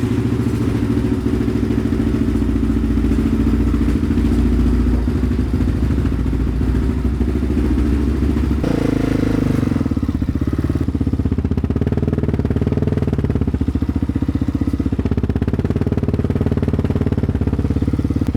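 A neglected Yamaha Raptor ATV engine runs loud and close, stumbling and chugging at idle before revving and pulling away as it is driven, with a continuous uneven thrum throughout.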